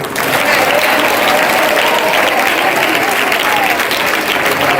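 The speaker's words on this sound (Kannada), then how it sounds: "ಅವ್ರಿಗೂ ಕೂಡ ಒಂದು ಚಪ್ಪಾಳೆ ತಟ್ಟಿ" Students at a residential school in Suttur clap together in steady, dense applause that stays loud and close throughout, with a faint murmur of voices mixed into the clapping.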